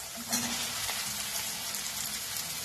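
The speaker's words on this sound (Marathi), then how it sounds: "आता याच्यामध्ये आपण भेंडी घालायची" Okra tossed into a hot pan for masala bhendi sizzles and fries steadily, a close, dense hiss with a brief louder crackle as it lands, with no talking over it.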